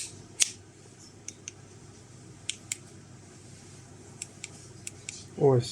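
Small, sharp clicks of a tactical weapon flashlight's buttons for Picatinny rails being pressed, isolated taps spaced irregularly over a quiet background, with a brief spoken word near the end.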